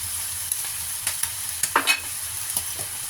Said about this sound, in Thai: เราจะมาผัดเลยนะคะ